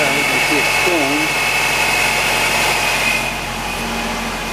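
Steady idle of a Nissan Sentra engine with a newly fitted alternator belt spinning, a continuous close hum with a faint whine, dropping slightly in level near the end, with brief indistinct voice-like tones early on.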